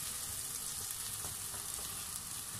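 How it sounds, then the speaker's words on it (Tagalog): Onion sautéing in a pan gives a steady, close, bright sizzle, even and unbroken, with no voices. "ginisa muna natin ang ating sibuyas"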